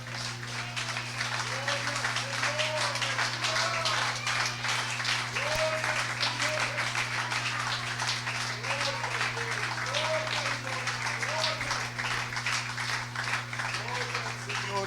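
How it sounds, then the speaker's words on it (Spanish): A church congregation at an evening prayer service applauds steadily and loudly, the dense clapping running unbroken throughout over a constant low hum, with cheering voices rising above it. "Yo pienso que el Señor Jesús se merece un aplauso esta noche."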